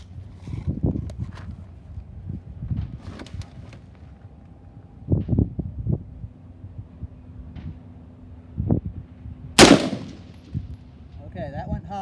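Carbine rifle shots ring out at an outdoor open gun range, several spaced, booming reports a few seconds apart with one sharp, loud crack near the end, amid faint wind and handling noise.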